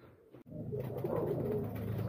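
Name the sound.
pigeons cooing while being fed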